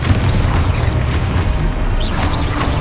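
Confringo blasting spells burst during a Hogwarts Legacy duel, loud booming impacts layered over dense rumbling game combat noise, sustained and close throughout the stretch.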